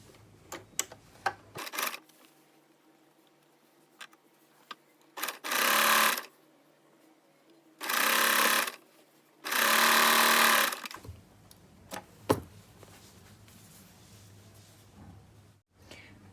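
A sewing machine stitches folded trouser fabric in three separate loud bursts of rapid, close whirring, separated by quiet pauses filled with faint handling clicks and fabric rustles.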